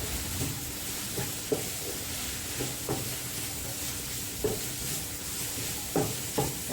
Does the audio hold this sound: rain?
no